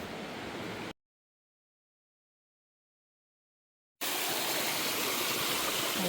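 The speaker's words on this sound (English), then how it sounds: "Alright, so much rain." Steady heavy rain on the Appalachian Trail, a dense even hiss that fills the first second, drops to silence for about three seconds, then returns louder and closer for the rest, with no voices.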